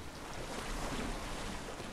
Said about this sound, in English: Headed to the house of Odysseus on a tiny boat